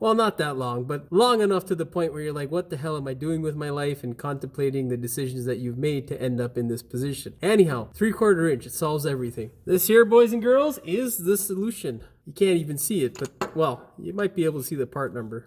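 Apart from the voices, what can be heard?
No distinct noise like a dog, phone or traffic.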